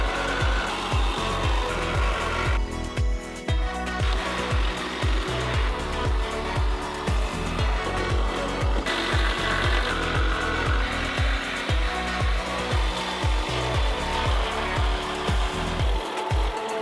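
Loud, steady power-tool cutting through the metal chassis leg of a crash-damaged Mercedes-AMG GLE63 S during repair, a harsh continuous grinding with a fast rhythmic pulse running throughout, close up and without speech.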